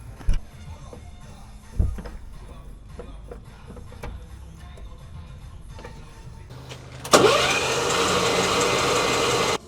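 Engine on a pear orchard machine during a Dutch Conference pear harvest cranks and fires after a few sharp clicks and knocks, then settles into a loud, steady running drone.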